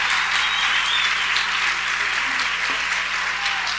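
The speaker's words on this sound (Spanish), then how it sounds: "Démosle un aplauso fuerte al Señor." A church congregation at a Spanish-language service from 1996 claps steadily and loudly, a dense continuous wash of applause from a large crowd filling the room with no voices over it.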